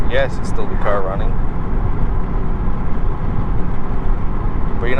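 Steady cabin drone from a 2016 Ford Focus ST running on the highway, a constant low engine and tyre roar filling the whole stretch, with a short spoken phrase near the start and end.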